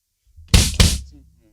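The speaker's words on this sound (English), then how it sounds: "Okay, so the bass drum is going to sound like this." Two deep, close thumps from a bass drum in a kit, struck about a quarter second apart, then fading into a low ring.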